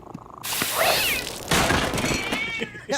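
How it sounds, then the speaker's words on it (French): A cat meows loudly and close by, giving a couple of drawn-out, wavering cries over a short noisy stretch. "Non, Momo, il faut pas pisser sur mon chat, OK?"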